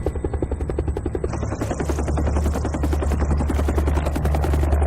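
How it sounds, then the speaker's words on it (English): Helicopter rotor thudding steadily and close as it comes in to land on a naval ship's flight deck at sea during the 1975 evacuation of South Vietnam, a continuous loud beating with engine whine throughout. "Our flight deck will only take one helicopter at a time landing."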